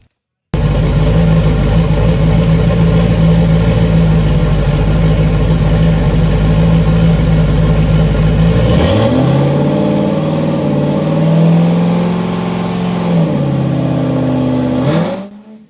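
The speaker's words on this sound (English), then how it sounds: "you heard it go first, second, and then when it grabbed third, it started dragging the motor down" A car's engine revs hard at a drag track, climbing through first and second gear, then drops and strains as third engages, before cutting off abruptly. The engine is loud and close, with no other sound over it.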